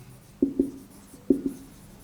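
Marker strokes on a board, two short pairs of squeaky scratches spaced apart, close and moderately loud against a quiet room with no talking.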